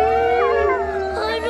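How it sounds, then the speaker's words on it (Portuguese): Several dogs howl together in long, wavering, overlapping tones, close and loud, sustained without pause. "Foi só cachorros uivando"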